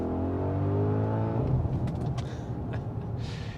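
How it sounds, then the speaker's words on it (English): An Audi SQ7 with a V8 engine accelerates from inside the cabin, a loud rising engine drone with climbing harmonics over the first half, then a rougher steady roar with a few brief knocks. "Right now we're sitting in the SQ7, and as I mentioned in the beginning, it's a V8 engine,"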